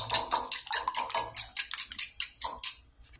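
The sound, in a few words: mixing corned beef into scrambled eggs in pan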